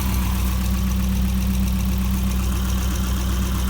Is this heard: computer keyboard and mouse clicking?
no